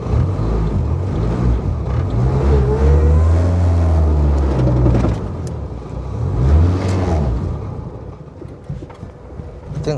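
A manual-transmission car's engine revs loudly and steadily for several seconds, dips, then rises again in a second shorter rev before settling down, with no talking over it.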